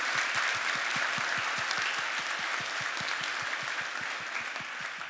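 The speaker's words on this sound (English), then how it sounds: "Barend needs another round of applause for also the live demo at his first PyData" Audience at a PyData tech talk applauding a presenter, a steady dense wash of many hands clapping throughout, fairly loud and continuous with no talk over it.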